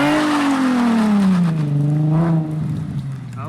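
A Ford Mustang engine revs hard at full throttle with the clutch in during an attempted burnout, pitch climbing and falling in a loud, sustained roar that ends in a rough, unsettled tail.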